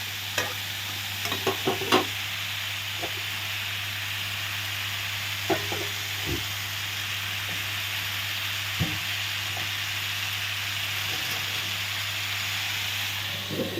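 Bottle gourd shoots sautéing in a pan, a constant close hiss and sizzle with a low hum underneath and occasional stirring clicks, no talking.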